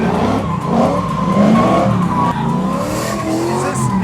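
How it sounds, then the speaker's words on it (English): Cars drifting sideways at a street-racing show, tires squealing loudly and continuously over roaring engines, the screech rising and falling in long wavering sweeps with no break. "you get to experience the art of going sideways that you see right now"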